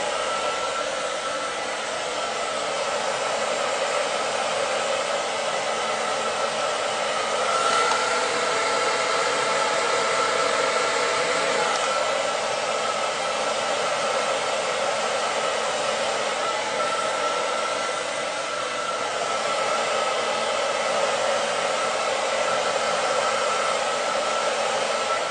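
A hair dryer blowing curly hair straight with a round brush, a steady loud whooshing roar running unbroken from start to finish, with only slight shifts in tone as it moves and no talk.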